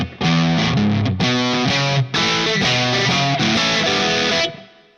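Electric guitar through a Tube Screamer overdrive into a Line 6 POD HD500 Fender Bassman model, playing a short chordal riff, thick and saturated, chords ringing then cut, ending with a final chord fading out.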